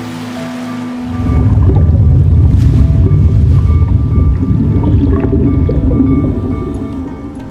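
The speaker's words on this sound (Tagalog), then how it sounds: "ginising na ng tunog ng hampas ng alon" Continuous rumbling surf and wash of waves starts after a brief quiet moment and rolls on steadily, fairly close and loud.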